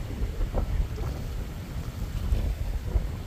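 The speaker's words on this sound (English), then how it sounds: "Wind's reasonably warm though. I like a bit of wind." Wind gusts beside a canal in the UK. The rumble is steady and buffets the microphone, with no voices.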